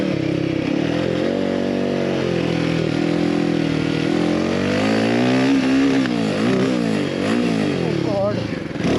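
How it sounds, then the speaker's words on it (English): A Royal Enfield Himalayan 450 motorcycle is ridden, its engine droning loud and close throughout, the pitch rising and falling as it revs and shifts. "The gear lever is set to Abhinav's height, so I am missing the gears by quite a lot."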